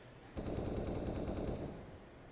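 Rapid automatic AK rifle fire in a Counter-Strike match on the Vertigo map, a single sustained burst of about one and a half seconds at moderate level, with no talk over it.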